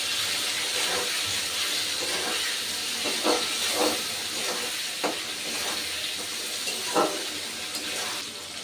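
A paste of ginger, dry chilli and cumin fries in a pan with a steady broad sizzle and hiss, broken by a few soft scrapes of a spatula, with no talking.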